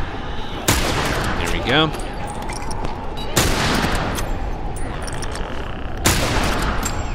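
Rifle shots in The Last of Us: Left Behind ring out as three loud, well-spaced cracks with reverberant tails, over faint game ambience and a short spoken remark.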